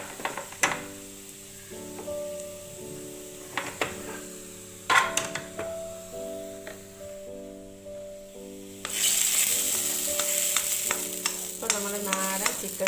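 A fried tempering mixture is poured into a pot of homestyle chicken curry with ash gourd. Steady stirring and scraping comes first, then a loud, bright sizzle bursts up near the end, with no one talking.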